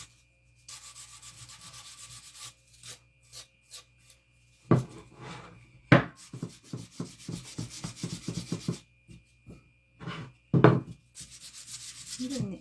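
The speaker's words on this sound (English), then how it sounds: "I want to sand it just a little bit in a few places here" The edges of a thrifted wooden cutting board are sanded by hand, bursts of gritty rubbing strokes, some slow and long, some quick and rhythmic, close up with short pauses between.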